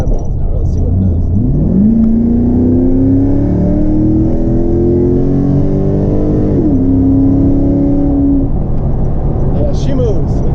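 A Chevrolet Camaro SS accelerates hard from about 35 mph, its loud engine note climbing steadily, dropping briefly at a gear change, then climbing again, heard up close from inside the car.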